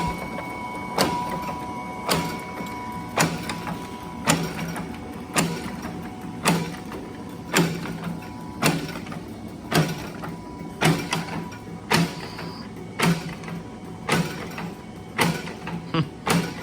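An Adkins power hacksaw running and cutting. The blade lifts on the return stroke and bites on the cut, making regular mechanical clunks about every second over a steady motor hum, continuous and close.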